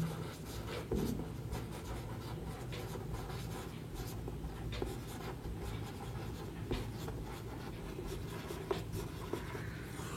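Pen scratching steadily across paper, writing by hand close up in a continuous soft scrawl over low background hum.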